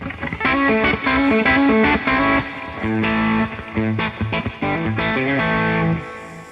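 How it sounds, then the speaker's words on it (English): Electric guitar with a crunchy distorted tone plays quick, bright picked lines and chords, loud and close throughout with a brief pause before ending. "I use my distortion tone on that one."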